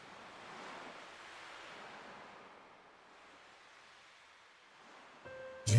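Ocean waves wash onto the shore in Chrono Cross, a soft hissing surge that swells and recedes slowly, fairly faint and alone, before a sudden brighter game tone cuts in at the very end.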